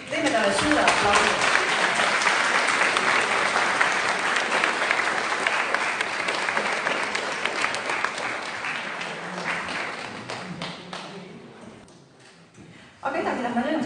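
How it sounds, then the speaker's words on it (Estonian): Audience at a photo contest award ceremony applauds steadily and loudly for about twelve seconds, the clapping thinning and fading near the end before a sudden louder burst resumes. "Teeme talle suure aplausi."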